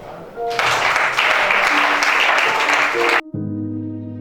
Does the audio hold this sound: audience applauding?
yes